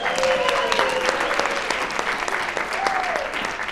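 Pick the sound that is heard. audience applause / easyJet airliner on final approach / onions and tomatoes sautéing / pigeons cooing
audience applause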